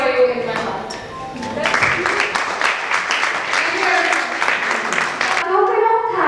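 Audience applause at a book release event on stage, a dense run of hand clapping that swells from about two seconds on and carries steadily to the end, with voices talking over and around it.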